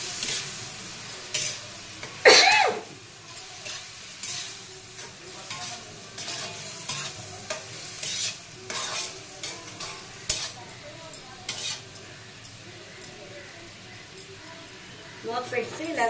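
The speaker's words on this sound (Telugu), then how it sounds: "మూత పెట్టి ఇలాగా ఫ్రై చేసుకోవాలి." Onion curry frying in a pan while being stirred, steady soft sizzle with intermittent scraping stirs close up, plus a brief high squeal near the start and someone speaking at times.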